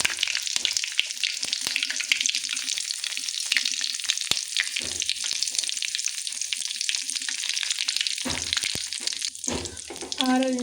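Cumin, mustard seeds and curry leaves hitting 3-4 spoons of hot oil in a home kitchen, a steady loud sizzle and crackle with scattered pops, some clatter near the end.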